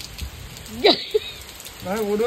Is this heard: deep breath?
no